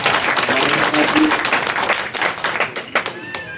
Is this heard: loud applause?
yes